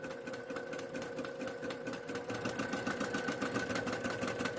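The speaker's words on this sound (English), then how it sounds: "you just keep on sewing pieces together without cutting everything apart" A sewing machine stitches fabric pieces together one after another for a memory bear, producing a fast, steady mechanical whir and needle chatter, close and alone, picking up speed partway through.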